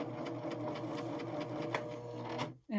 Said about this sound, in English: get your cording lined up in the fabric, and then it's just a matter of stitching down